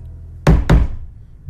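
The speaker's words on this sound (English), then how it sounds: "As I lay right there, I get a knock." Two heavy, close knocks on a hotel room door in quick succession, deep and thudding, against a quiet background.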